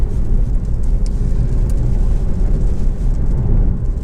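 An Alfa Romeo Giulietta 2.0 JTDM-2 diesel engine runs with a smooth, steady low hum and no clatter, holding an even note close up throughout.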